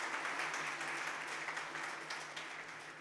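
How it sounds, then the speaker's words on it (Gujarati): Audience applause welcoming guests at a Thursday talk on financial planning, a steady wash of clapping from a crowd that holds evenly for about three seconds with no voices over it. "માને શ્રી આસોદરિયા સાહેબને જોરદાર તાળીથી આપણે વધાવીએ"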